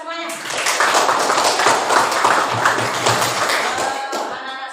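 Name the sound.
class clapping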